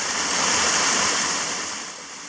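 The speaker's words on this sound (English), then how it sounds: "our guide shows us how to jump from the cliffs" A tropical waterfall in Fiji roars as a loud, unbroken broadband rush of falling water, close and steady, fading slightly at the end.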